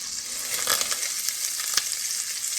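Bacon grease mixed with vegetable oil and butter sizzles steadily in a pan over low heat, a continuous bright crackle with small pops, close and alone.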